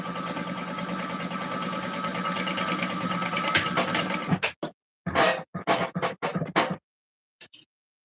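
A sewing machine top-stitches a garment pocket with a continuous, close mechanical whir. The whir then breaks into several short stop-start bursts, and a few brief quiet gaps fall between them.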